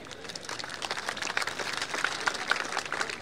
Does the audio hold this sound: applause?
yes